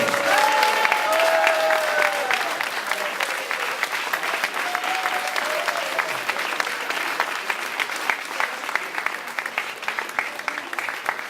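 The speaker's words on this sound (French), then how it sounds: "je crois que vous pouvez les applaudir très très fort" A crowd at the finale of an adapted-sports inter-home challenge claps vigorously for volunteers and educators, with a few voices and cheers rising at the start before the applause settles into a steady, loud patter.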